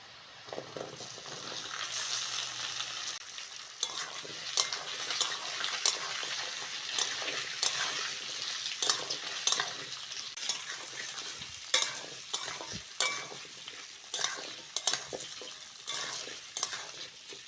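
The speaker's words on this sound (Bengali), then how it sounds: "পেঁয়াজের সঙ্গে কচু আলুটা ভালো করে ভেজে নিয়েছি" Cut taro and potato fry with onion in a pan, giving a low background sizzle under repeated scraping strokes of a spoon, with irregular clinks and rustles of stirring throughout.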